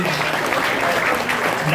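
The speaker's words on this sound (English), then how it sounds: "give a round of applause for all of you who wrote that letter" A sales-training audience breaks into a full round of applause, with dense, sustained clapping at a steady loud level throughout.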